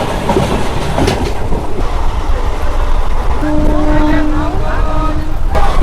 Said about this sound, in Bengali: 2 মিনিট ট্রেন দাঁড়িয়েছিল, বেরিয়ে যাচ্ছে।